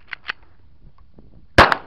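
Two quick, snappy pistol shots crack close by, followed by a louder metallic clack, all against near silence.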